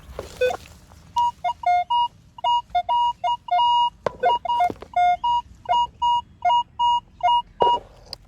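A metal detector sounds a string of short, high electronic beeps in quick uneven bursts over about eight seconds, close and clear, with a few scuffs and knocks from digging in the ground around a tree.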